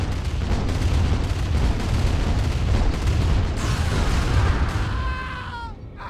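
Heavy, rumbling booms of cannon fire roll through a dense battle din in Command and Conquer Remastered, followed by descending whistling tones as the noise fades out.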